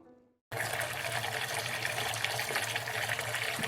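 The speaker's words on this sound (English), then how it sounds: "turned off the tap, watching the water swirl down the basin" Water runs from a bathroom tap into a basin in a steady, full gush. It starts abruptly after a brief quiet moment and continues loudly close by.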